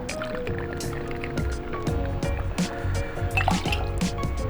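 Gin is poured into a cocktail in a close, continuous trickle of liquid with small drips and clinks over a few seconds.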